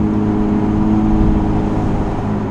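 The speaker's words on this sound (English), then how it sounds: "You still get that lovely induction noise." A Porsche Spyder RS engine hums and drones at a steady pitch, the intake noise prominent over a subdued, muffled exhaust with its valves closed, close and fairly loud.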